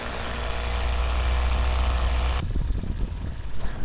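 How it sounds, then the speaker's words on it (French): A light aircraft engine idles on the ground after landing, a loud steady low drone with a rhythmic throb that shifts to a rougher, more uneven chugging partway through. "je vais laisser le moteur allumé pour la forme"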